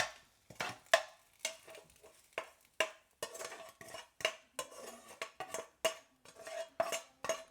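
A utensil scrapes six medium cooked eggs out of a frying pan in a rapid series of about fifteen short metallic scrapes and taps, close and fairly quiet, with no talk.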